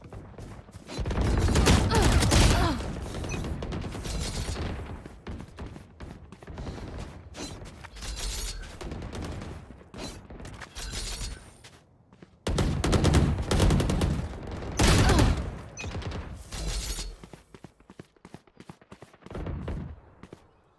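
Dense bursts of automatic gunfire in the tactical shooter Valorant, loud and sustained, with rapid overlapping shots in two main volleys and short lulls between them.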